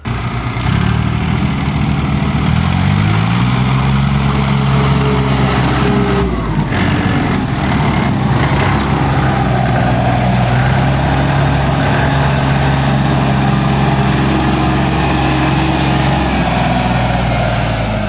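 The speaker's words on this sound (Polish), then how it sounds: "dzisiaj będziemy upalali traktorkami w błocie" A small garden tractor engine idles steadily before mud testing, its loud continuous drone briefly shifting pitch when revved mid-way and then settling back to an even idle.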